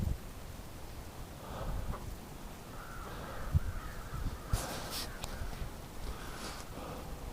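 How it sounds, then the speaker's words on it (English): Around a dozen crows caw on and off in winter outdoors near a farmyard, their harsh calls coming in scattered bursts over steady background noise, some close and loud, others farther off. "Just staring at the crows. They're all over the place."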